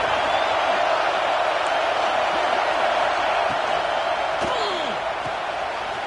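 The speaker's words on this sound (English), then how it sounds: "here comes the noise. This crowd is trying to inspire this defense to make a big red zone stop." A stadium crowd at a college football game roars steadily for the defense before a red zone play, a dense, loud, continuous wall of cheering and noise that holds throughout with no clear pauses.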